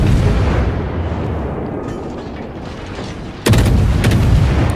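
Naval guns thunder in World of Warships as high-explosive shells land, a dense rumbling roar of booms that swells sharply into a fresh, louder barrage near the end.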